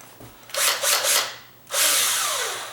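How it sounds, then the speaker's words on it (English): A power drill whirs in short pulsing bursts, then a longer steady run as a screw bites into wood at an angle to fix a loose door hinge, loud and close. "I'm going to have to drill this in at an angle."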